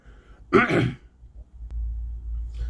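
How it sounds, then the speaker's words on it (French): A single short, harsh cough close by, followed by a low rumbling background and a faint click. "Comme je parle beaucoup, forcément ça déclenche ma toux."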